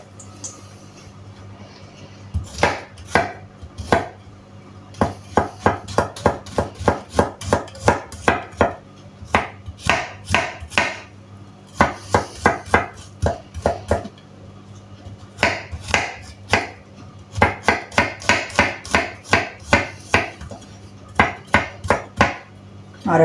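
A knife chops cooked beans finely on a board for escabeche, striking in quick rhythmic bursts of close, crisp knocks separated by short pauses.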